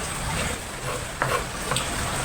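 Garlic sizzling in a pan while being lightly browned for a Filipino home dish, a soft continuous frying hiss with a few brief stirring scrapes, fairly quiet and with no one talking.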